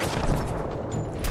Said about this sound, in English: he's absolutely fucking mag dumping me